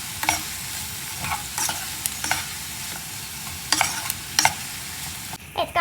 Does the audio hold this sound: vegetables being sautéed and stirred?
yes